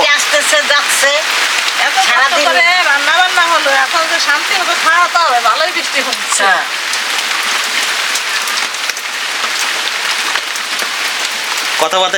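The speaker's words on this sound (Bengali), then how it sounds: "বৃষ্টি নেমে গেছে" Heavy rain pours down outside a home kitchen, a loud, constant hiss that fills the whole stretch while a voice talks and sings over it.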